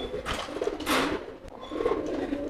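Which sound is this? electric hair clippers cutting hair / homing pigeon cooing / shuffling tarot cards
homing pigeon cooing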